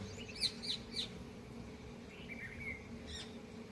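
A few short, high-pitched parrot calls sound faintly from a distance over a quiet background hum.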